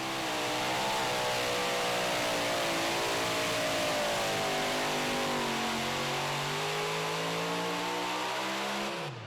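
A super modified pulling tractor revs hard and steadily throughout, its loud engine rising and falling in pitch as it drags a sled down the track, with no voices over it.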